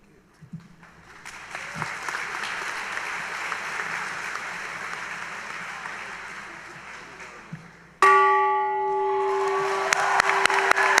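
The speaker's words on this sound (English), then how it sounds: "this bell represents the beginning of your Maryville journey" A bell rings out loudly at a university convocation for the fall class, its sustained ringing tone following several seconds of crowd applause and cheering.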